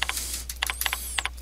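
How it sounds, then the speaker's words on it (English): Quick keystrokes on a computer keyboard, close and crisp, coming in short uneven bursts of clicks with brief pauses between them and no talking. "I have to type the first part in by hand."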